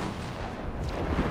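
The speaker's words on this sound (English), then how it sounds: "I hear a lot of gunshots." Loud, continuous barrage of gunfire with heavy booms blending into a dense roar, no pauses throughout.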